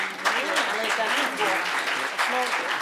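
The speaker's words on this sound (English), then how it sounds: "More applause and big hands." Applause from the audience at a memorial lecture after a panel, a continuous, moderately loud clatter of many hands with talk and voices running over it throughout.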